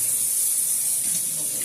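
Tap water runs steadily from a kitchen faucet while turnip greens are rinsed, a constant close hiss with no pauses or voices.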